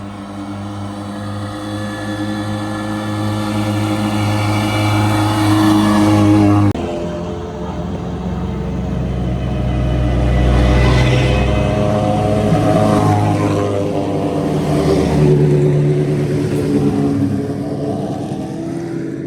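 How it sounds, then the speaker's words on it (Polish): Race car at a mountain hill-climb event in Limanowa, its engine droning loudly as it passes and changes pitch over about twenty seconds, heard from the roadside with no talking. "o, jedzie jakiś tutaj wehikuł"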